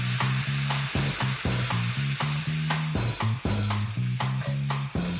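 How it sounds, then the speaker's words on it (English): Bacon renders in a pan, a steady loud sizzle and crackle of frying fat broken by repeated scraping and stirring strokes, close up with no voices. "I'm going to render this bacon, get some of that fat out of it"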